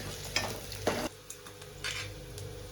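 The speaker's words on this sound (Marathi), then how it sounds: "तर हे बघा आता लसूण गेलेला आहे. आपला कढईत मस्तपैकी याला आता इकडून तिकडून करायचा" Garlic frying in a kadhai while being stirred, with a few scraping strokes of a spoon against the pan over a steady low sizzle.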